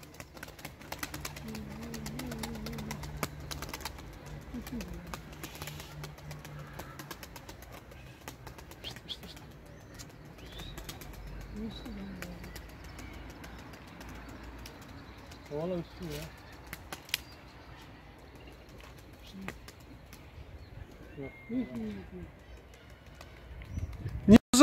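Performance tumbler pigeons kept in a coop give off low, soft coos in short repeated bursts, fairly faint and set against a steady background hum with occasional people talking nearby.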